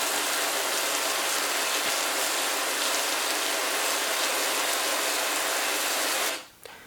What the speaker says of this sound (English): after a little bit of looking up a few rain sounds that I liked, I decided not to go very heavy but not too light either